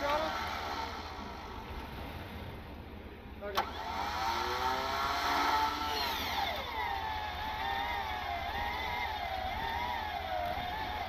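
Engine revving under throttle on a stuck, aired-down off-road vehicle while stranded, a rising and wavering mid-pitched drone that climbs after a sharp click and holds, with people talking over it.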